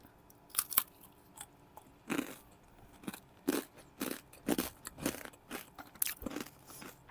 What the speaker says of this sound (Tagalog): Para marinig nyo yung kagat.